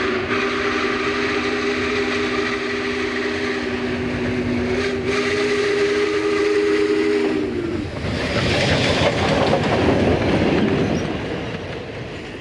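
Union Pacific Challenger 3985 steam locomotive, running as Clinchfield 676, rumbles loudly past on former C&O rails with a heavy chuffing roar, a long whistle blast sounding over it before the noise swells up close.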